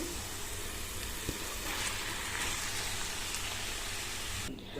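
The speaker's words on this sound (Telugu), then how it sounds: "మనం కుక్ చేసి పెట్టుకున్న రైస్ వేసి కలుపుకోవాలి" Cooked rice stirred into tomato and oil in a hot pan, giving a steady close sizzle and frying hiss throughout with faint scraping, cutting off briefly at the end.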